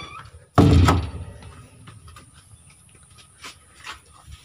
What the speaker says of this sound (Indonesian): Tutup pintu dulu.